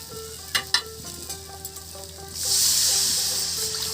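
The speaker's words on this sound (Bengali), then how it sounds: "মশলাটা ভালো করে কষিয়ে নিয়েছি, এবার জল দিয়ে দেবো।" Water poured onto sizzling spice paste in a pan for a village-style catfish curry: a few soft knocks and clinks, then a sudden loud, steady hissing sizzle that slowly eases.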